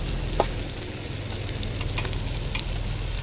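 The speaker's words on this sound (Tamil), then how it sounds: "தக்காளி வெங்காயம் எல்லாம் நல்லா வதங்கிட்டு" Tomatoes and onions sauté in a pan with a steady, close sizzle and light frying crackle, broken by a brief stirring scrape early on and a few faint clinks.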